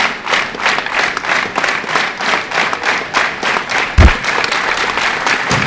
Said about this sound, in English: They're going to clap for him to close it out.